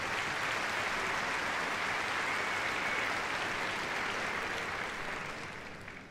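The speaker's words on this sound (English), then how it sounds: "So a nice round of applause for Bandit and Dave there." Steady crowd applause fills an indoor arena after a police dog demonstration at Crufts 2013. The clapping is dense and sustained for several seconds, then slowly fades toward the end.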